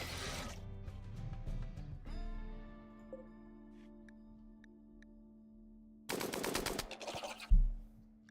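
Light machine gun fire in the RimWorld video game: a sustained burst of rapid rattling shots up front, then a quieter stretch with a faint hum, and a second loud burst near the end.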